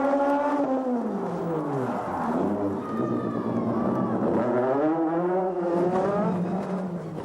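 A Renault Clio Maxi rally car competes in the 1995 World Rally Championship, Formula 2 class. Its engine note climbs and falls repeatedly as the driver revs and shifts, staying loud and continuous throughout.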